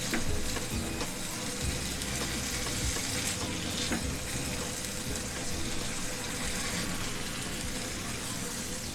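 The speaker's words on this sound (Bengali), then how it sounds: "মশলার সাথে ডিমগুলোকে ভালোভাবে কষিয়ে নিতে হবে।" Previously fried eggs stirred and sautéed in spice masala in a pan for egg korma, a dense steady sizzle with scraping stir strokes, close and continuous, with no talking.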